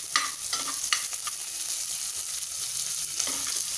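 Ginger, green chillies and curry leaves frying in a pan for green moong dal khichdi, a steady close sizzle with stirring scrapes throughout.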